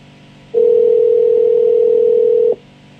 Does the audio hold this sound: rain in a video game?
no